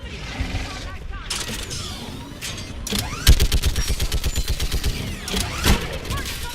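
Mounted gun in Mass Effect 3 firing a rapid, evenly spaced burst of heavy shots, loud and close, amid battle noise with brief voices around it.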